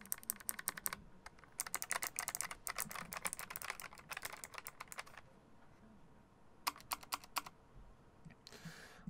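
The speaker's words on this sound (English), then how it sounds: "So guys, just another quick little close-up sound test." A Keychron K1 V4 low-profile mechanical keyboard with Gateron Blue switches is typed on close up, giving bursts of crisp, rapid clicky keystrokes separated by short pauses, with no talking.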